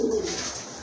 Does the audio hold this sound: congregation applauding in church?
no